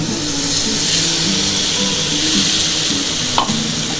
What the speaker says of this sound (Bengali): এই যে আদা আর জিরে বেটেছি এই মশলাটা দিয়ে দিলাম